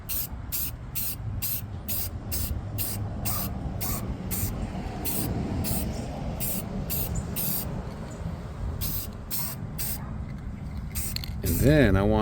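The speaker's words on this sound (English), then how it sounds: "And so I'm using some Rust-Oleum Ultra Cover. It's got primer and paint in it." Rust-Oleum Ultra Cover primer-and-paint spray can hissing in a rapid series of short bursts, close and fairly loud, over a soft background rumble, ending with a brief rising tonal sound.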